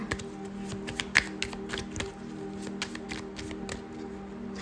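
Tarot cards being shuffled close up, a steady run of soft riffling taps and flicks with a low background hum and no talk.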